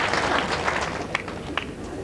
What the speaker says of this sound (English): Rich applause.